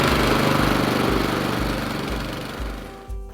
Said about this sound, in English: the first step in using the power rake or dethatcher is how to start the machine